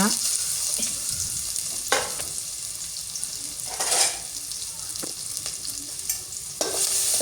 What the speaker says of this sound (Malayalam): ഇതെല്ലാം ഇട്ട് നന്നായിട്ട് വഴറ്റിയെടുക്കണം